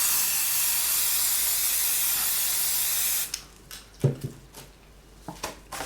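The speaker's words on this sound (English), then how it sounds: "You just spray the whole bush." A sprayer mists a garden bush in a loud continuous hiss for about three seconds, then stops, followed by quieter dripping patter and a few soft knocks nearby.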